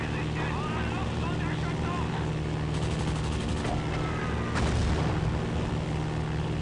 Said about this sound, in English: that was a perfect bomb drop on the British heavy tank